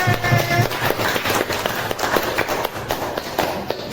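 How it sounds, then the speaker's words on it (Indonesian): A class of fifth-grade students claps together in dense, brisk applause that holds steady for a few seconds. "tepuk tangan dulu untuk kita semua"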